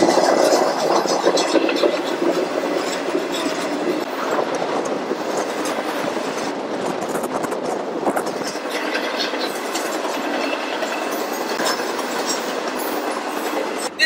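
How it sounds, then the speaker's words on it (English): Tropicana orange juice freight train rolling past, a continuous loud rumble of wagons with rhythmic clickety-clack and occasional wheel squeal throughout. "This is the juice train."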